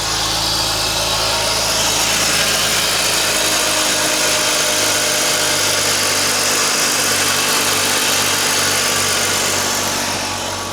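A BMW E46 engine, freshly given an oil change, idles steadily and loudly up close, a constant hum with a fine vibration and no voices over it.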